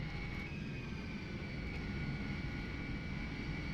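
Cockpit engine noise of a Lockheed L-1011 airliner taxiing in a flight simulator game, a steady low rumble with a thin whine above it, alone without talk.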